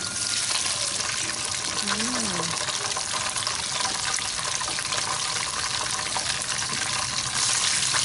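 Sea crab fries in a pan for a tamarind stir-fry, giving a constant dense sizzle at close range while a voice speaks briefly over it.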